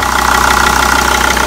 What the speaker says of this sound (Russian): Сразу сделать короткую очень заводку.